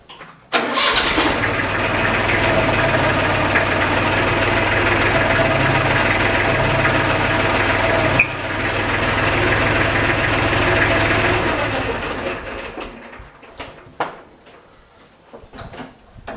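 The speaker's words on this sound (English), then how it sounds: "Yes, that would be called a redneck hoist. It's called a tractor." A tractor engine pressed into service as a hoist for lifting a deer carcass runs loud and close at a steady, chugging idle for about eleven seconds, then shuts down, leaving faint clanks and rustling.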